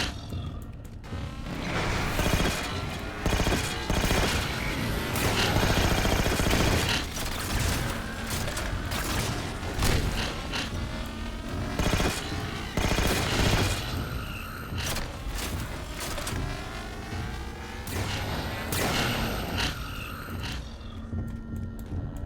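Dense, continuous gunfire from Halo 4 weapons, loud and sustained with overlapping bursts and booms throughout, no talking.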